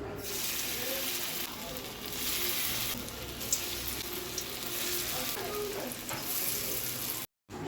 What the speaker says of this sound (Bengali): সমস্ত শোলা কচুগুলোকে অ্যারারুট দিয়ে কোটিং করে নিয়েছি এবার গরম তেলে ভাজবো